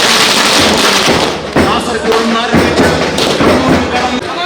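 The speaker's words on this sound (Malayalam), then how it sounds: "ദയവ് ചെയ്ത് ആ പടക്കം പൊട്ടികളൊന്ന് നിർത്തണം എന്ന് അപേക്ഷിക്കുകയാണ്." Firecrackers burst at a political rally in a loud, continuous crackling barrage of overlapping bangs and thuds, heard close and under a voice speaking.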